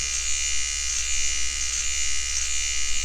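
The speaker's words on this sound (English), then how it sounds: "Okay, I can hear it trimming." Steady high-pitched electric buzz of a Microtouch Solo hair trimmer running close up, with faint crackles of cutting hair, continuous and unbroken.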